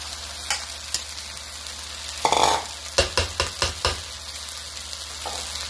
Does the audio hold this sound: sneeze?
no